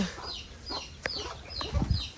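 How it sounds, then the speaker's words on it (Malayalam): Two mother hens cluck softly while leading three chicks around, with short repeated clucks and chirps up close and a few louder clucks near the end. "നമ്മുടെ രണ്ട് തള്ളക്കോഴികൾ മൂന്ന് കുഞ്ഞുങ്ങളെയും മേച്ചുകൊണ്ട് നടക്കുകയാണ്"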